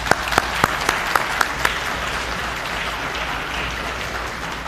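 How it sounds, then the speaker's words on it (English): A few loud, spaced claps ring out first, then a crowd at a high school officer induction ceremony settles into steady, even applause. "Let's give them a round of applause, ladies and gentlemen."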